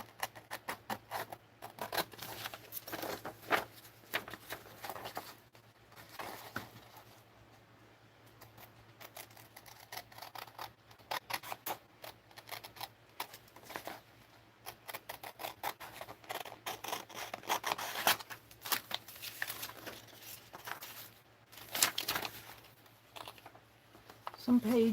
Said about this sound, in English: It's my other scissors.